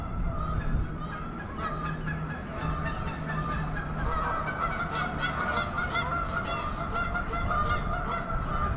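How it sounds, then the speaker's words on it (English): A flock of geese honks loudly and continuously, with overlapping, agitated calls that build in intensity as the birds squabble nearby. "Our 20 seconds have turned into a goose fight."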